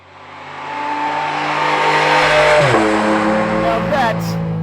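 A Porsche 718 Cayman GT4 RS with its 4-litre flat-six screams at high revs, loud and close, rising steadily, then a quick gear change drops the pitch before it climbs again.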